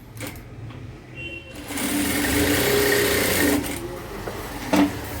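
Sewing machine stitching the side shoulder seam of a dress top: a steady, close mechanical whirr that rises and runs for a few seconds, with soft handling noises before and after.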